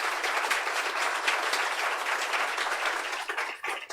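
An audience at a science academy event applauds steadily, with dense clapping that stays fairly even and then thins out toward the end.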